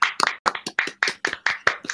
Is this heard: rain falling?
no